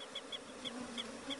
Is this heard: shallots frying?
no